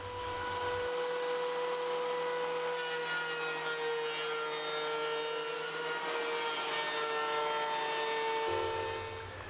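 Planer running through wood stock for a bar-height Adirondack chair, a loud continuous whirring roar with the cut deepening midway before the motor idles out near the end, no voices.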